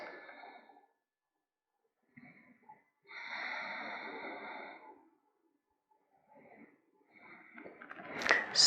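Slow, deep breaths during a yoga side stretch, quiet airy inhales and exhales separated by silent pauses, ending in a louder, sharper breath.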